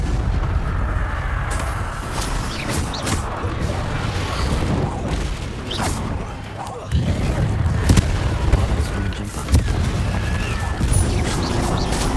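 A fire spell cast in the video game Hogwarts Legacy, a loud, dense run of booming, crackling blasts and impacts that continues across the clip amid game effects, with voices talking underneath.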